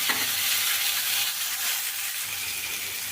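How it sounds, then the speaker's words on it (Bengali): Potatoes fry in a little oil with turmeric and salt, the base for a mutton curry, giving a steady, close sizzle with light stirring throughout and no talk. "নুন দেওয়াতে আলুগুলো কিন্তু মোটামুটি একটুখানি ভাজা হয়ে যাবে"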